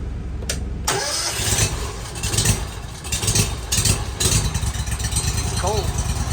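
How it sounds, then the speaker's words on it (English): Pressure washer engines mounted on a 2010 Fuso truck rig crank and fire up, then run at a loud, steady mid-pitched roar close by, with brief bursts of cranking and revving throughout. "I'll go ahead and fire up these machines."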